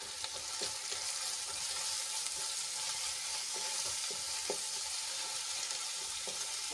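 Spices sautéing in a pan for a gravy, a constant close sizzle with occasional stirring clinks and scrapes, no voices.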